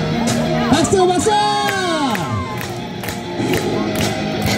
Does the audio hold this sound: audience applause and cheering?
yes